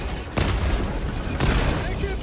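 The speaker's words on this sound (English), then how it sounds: "Auto cannon to save the day." Auto cannon shots in the video game Helldivers 2, two heavy booming blasts about a second apart over continuous loud battle noise, with a voice talking.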